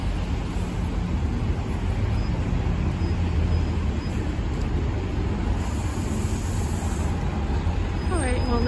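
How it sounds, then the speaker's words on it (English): A Toronto TTC 19 Bay city bus rolls past on a busy downtown street in the evening, its steady engine rumble blending into dense traffic noise that holds at an even level throughout. "Oh, here's the bus, guys. 19 Bay."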